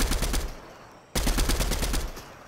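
LMG in Fortnite firing rapidly, two long sustained bursts of evenly spaced close shots separated by a short pause.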